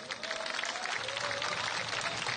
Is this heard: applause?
yes